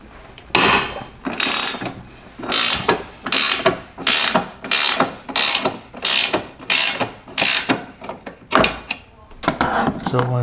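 Ratchet wrench loosening a bolt on a Cusco quick-release strut tower bar, about a dozen rhythmic, close, sharp clicking bursts in quick succession.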